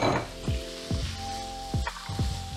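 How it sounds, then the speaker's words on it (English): Garlic and mushrooms sizzle in hot olive oil alongside onions for a vegan lasagne, a close, steady frying hiss broken by repeated scraping stirs of a utensil against the pan, with no speech. "the garlic's another thing that smells great as it starts to hit that hot olive oil"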